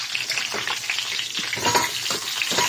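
Pork leg (pata) frying in a deep pot, a dense, continuous crackling sizzle with bursts of spattering oil, close and loud, with no talking.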